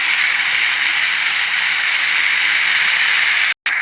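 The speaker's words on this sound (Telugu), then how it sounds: "ఫ్రై అవుతుంది. నేను వేసేస్తున్నాను అందులో మెత్తబడుతుంది అన్నమాట." Chillies sizzle in hot oil in a pan, a steady loud broadband hiss that holds evenly throughout and cuts out for an instant near the end.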